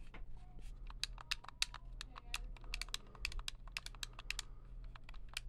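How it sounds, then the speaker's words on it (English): Clicky face buttons on a PowerA Moga XP-Ultra Xbox controller are pressed in quick, irregular bursts of sharp, close clicks over a quiet background. "So we have very clicky face buttons"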